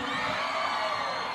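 A crowd at a live show in Boquim shouts and cheers together in a dense, continuous roar that stays loud and steady throughout.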